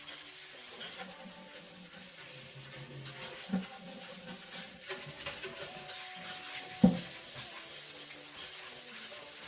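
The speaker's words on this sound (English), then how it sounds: "And I'll just scrub around." Soft, uneven rubbing and scrubbing across a household surface with homemade cleaner, a quiet, continuous scouring with a few sharper knocks and scrapes, and no voices.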